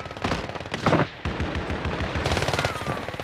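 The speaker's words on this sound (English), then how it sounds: "The guys from the other building are shooting" Enemy gunfire in Call of Duty Warzone, a close, loud burst of rapid automatic shots in quick, rattling bursts, with almost no pause between them.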